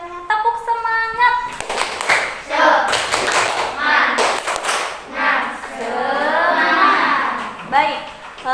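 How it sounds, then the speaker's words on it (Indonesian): An Indonesian class clapping together in a rhythmic pattern, loud and close, with children's voices and a teacher speaking over and between the claps. "Tepuk semangat."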